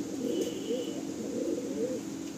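Lalsira pigeons, a Madrasi breed, coo softly in repeated low rolling phrases at moderate distance, with a steady hum of background noise and no speech.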